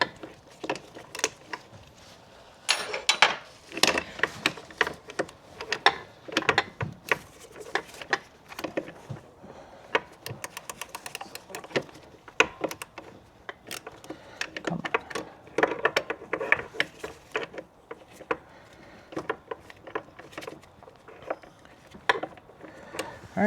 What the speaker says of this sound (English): it would be nice to be able to get this off with the ratchet rather than a wrench